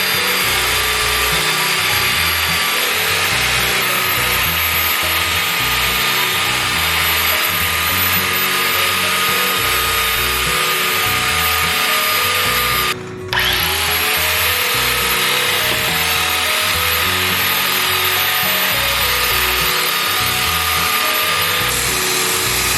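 A power tool trims new Formica laminate on a vintage camper table, a loud continuous high-pitched routing whine with a brief cutoff around the middle before it resumes steadily.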